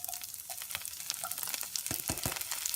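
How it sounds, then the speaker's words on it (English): Garlic goes into hot oil in a frying pan, giving soft crackling sizzles with light stirring and utensil taps, close and quiet with no talk. "the oil is hot, the veggies are strained, so I'm going to put the garlic in first"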